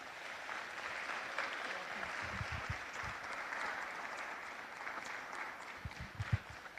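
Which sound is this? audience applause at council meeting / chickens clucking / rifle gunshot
audience applause at council meeting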